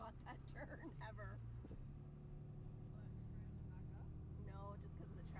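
Sunday traffic near the beach, vehicles droning and passing steadily, with a low engine hum under people talking close by.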